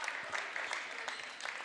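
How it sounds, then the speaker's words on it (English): Scattered applause from a crowd in a high school varsity boys basketball gym during a substitution, fairly faint and distant, with a few sharper claps standing out. "He'll get an applause."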